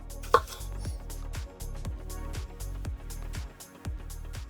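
A knife cuts vegetables in half lengthwise on a board, about a dozen sharp, evenly spaced chops ringing close and clear.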